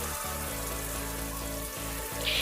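Raw potato and papaya pieces fry in oil with onion, giving a steady, close, busy sizzle and crackle that carries on without a break and is heard on its own.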